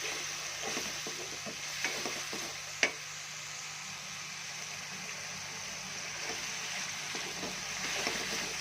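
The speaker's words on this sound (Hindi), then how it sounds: "हांडी को भून के बार बार इस तरह मसाले डाल के भूनें, फिर डाल के फिर भूनें" Spiced masala for aloo gobi sizzles and fries in a pot while being stirred, a steady close crackle broken by soft scraping strokes and one sharp clink of a utensil against the pot.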